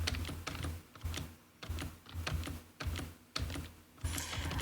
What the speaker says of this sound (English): if I spam the spacebar, it doesn't allow the animation to play because it's constantly trying to reset